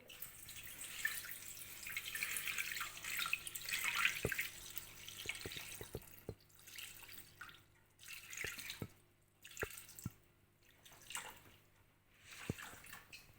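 Water poured into a bowl resting on a kitchen scale while preparing a crêpe dough, heard as a steady trickling stream that gives way to separate drips and small splashes, with no talking.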